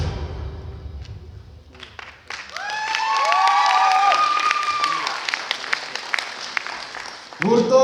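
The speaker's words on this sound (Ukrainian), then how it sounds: "Ваші оплески" Audience applause after a rhythmic-plastics dance club performance at a student show, sustained crowd clapping in a hall while a voice and tonal cheering or whistling rise above it, with a few sharper claps and thumps toward the end.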